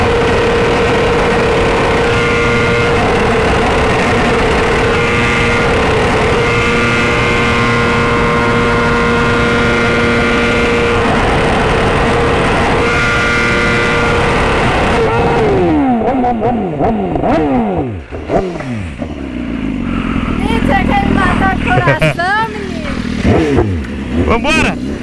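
A BMW S1000 motorcycle engine revs hard and holds a high, loud whine, then drops into repeated sweeping rises and falls of revving, close up with a harsh exhaust edge.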